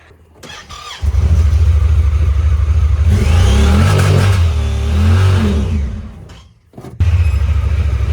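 A side-by-side UTV engine, sold at auction as inoperable, starts and revs loudly and steadily for several seconds as it drives up onto a trailer, easing briefly before revving again close to the microphone.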